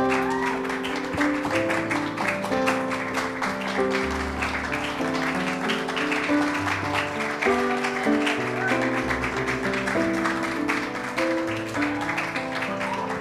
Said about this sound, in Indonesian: boleh kita berikan tepuk tangan yang meriah sekali lagi untuk Jennifer dan Joshua